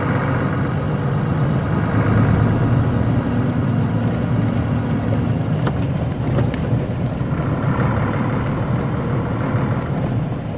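Steady broadband hiss of rain, continuous and fairly loud throughout with no voices, a low rumble underneath.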